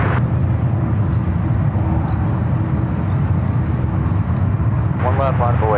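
A Boeing 777-300ER takes off at San Francisco airport, its engines a steady, loud broadband roar throughout, with a voice briefly speaking near the end.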